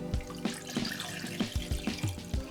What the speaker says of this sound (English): Then we add our water.